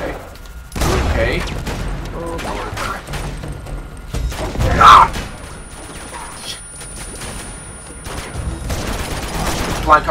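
Blind cover fire in the Uncharted 2 video game, heard as scattered bursts of gunshots with mechanical clatter and a sharp crash, mixed with ambient game sound. Someone talks over part of it.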